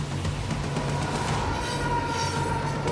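A locomotive fresh from urgent repairs, fitted with a whole new set of wheels, rolls along an Australian railway. A loud, steady rumble of wheels on rail continues throughout, with a thin metallic squeal ringing above it and no voices.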